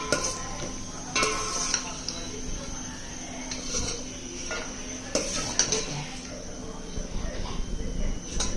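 Vermicelli roasting in hot ghee in a pan, with a continuous close-up sizzle and repeated metallic spoon scraping and clinking against the pan throughout.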